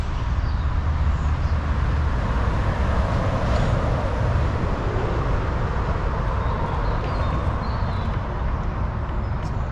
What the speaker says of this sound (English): it's got a very busy dual carriageway going over it